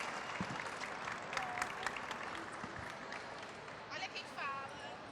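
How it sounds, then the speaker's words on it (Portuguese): An audience claps steadily throughout at a book fair in Rio de Janeiro, the applause moderately loud and even, with voices and cheers mixed in over it. "Aplausos"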